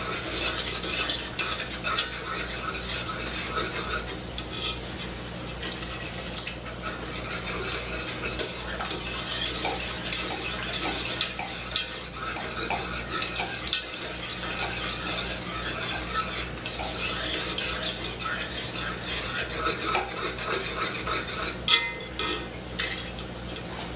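Steady stirring of white pepper gravy in a pan on the stove, a spoon scraping and clinking against the metal with a soft sizzle underneath, continuous and fairly close for the whole stretch.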